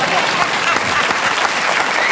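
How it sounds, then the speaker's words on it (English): A studio audience at a comedy panel show claps in a dense, even burst of applause that fills the whole moment at steady volume. "Give him a round of applause."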